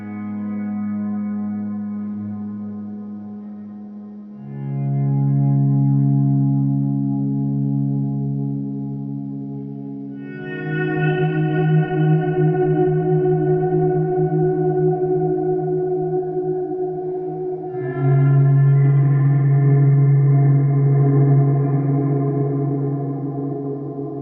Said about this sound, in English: So I've got a swell setting on here